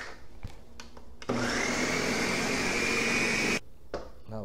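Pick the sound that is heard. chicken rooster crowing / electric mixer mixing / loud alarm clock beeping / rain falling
electric mixer mixing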